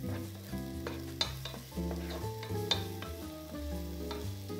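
Finely minced onion sizzles in a pan while being stirred, with a soft frying hiss and occasional sharp scrapes of the utensil, heard beneath tonal background music.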